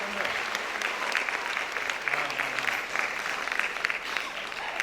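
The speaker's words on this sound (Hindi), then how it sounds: "आप लोग जोरदार तालियों से स्वागत करिए" Audience clapping loudly and steadily as a guest is welcomed onto the stage at a gathering, a dense, continuous round of applause with sharp individual claps throughout.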